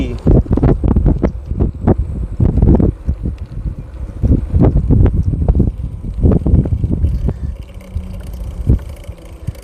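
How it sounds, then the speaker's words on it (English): Strong wind buffets an outdoor microphone in loud, continuous rumbling gusts that swell and dip throughout, very close and overpowering, with no clear voice standing out. "a lot of wind going on here."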